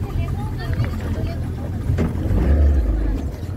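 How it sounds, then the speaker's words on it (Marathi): A boat's motor starts and settles into a low, steady rumble that swells louder toward the end, with a background babble of people nearby. "तर काहीच आपली बोट स्टार्ट झालेली आता."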